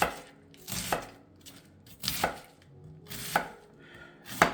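A knife shaves a head of cabbage on a cutting board for stir fry, giving soft rasping cuts broken by a few sharper knocks on the board, close and fairly quiet with no talking.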